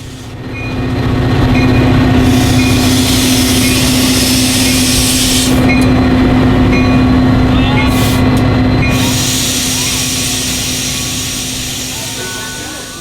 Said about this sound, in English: After the two trains clear, Metra 125 pulls into the station with the Operation North Pole Express.